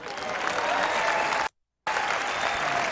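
Dense, steady clapping from a crowd, briefly cut to silence midway, then resuming at the same level.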